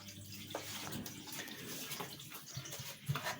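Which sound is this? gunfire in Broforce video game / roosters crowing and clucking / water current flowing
water current flowing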